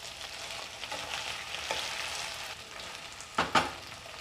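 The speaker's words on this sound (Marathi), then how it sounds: "मी 10 मिनटं भाजी शिजवून घेणार आहे." Sliced potato vegetable frying and sizzling steadily in a pan, with a couple of sharper scraping stir strokes near the end, close and moderately quiet.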